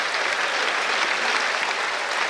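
Studio audience applause during a live Dutch quiz broadcast, a continuous even roar of clapping at moderate loudness from start to finish, with no voices heard over it.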